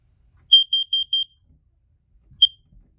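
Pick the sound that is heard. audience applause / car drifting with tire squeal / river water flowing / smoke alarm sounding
smoke alarm sounding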